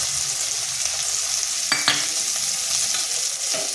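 Chopped tomato frying in a pan with a steady close sizzle, broken by a couple of sharp scraping stirs partway through.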